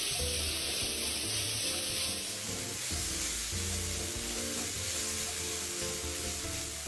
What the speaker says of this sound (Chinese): 将食材与调味料一起拌炒均匀。